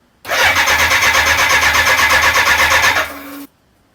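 A 1983 BMW K100 motorcycle engine cranks on its first start after rebuilding, with a fast, rhythmic whirring chug for about three seconds, then cuts off abruptly; loud and close, no voices.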